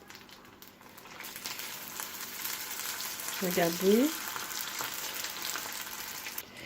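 Shrimp spring rolls (nems) sizzle in hot oil with a steady bright crackle, joined midway by a brief clatter as they are moved; a voice speaks briefly over the frying.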